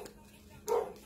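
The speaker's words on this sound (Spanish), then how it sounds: "El Kofi, no sé a quién le esté ladrando, chiquillas." A dog barks once or twice in the background of an indoor space, a brief muffled burst that rises above the quiet room, with a faint voice around it.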